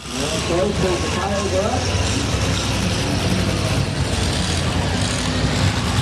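Demolition derby car engines roar together in a dense, loud rumble that holds steady throughout, with voices talking over the engine noise.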